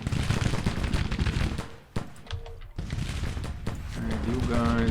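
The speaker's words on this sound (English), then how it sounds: "Bombardment, please." Artillery bombardment in the Grand Tactician Civil War strategy game, a dense run of booming cannon fire and crackling volleys with a brief lull midway, loud and continuous.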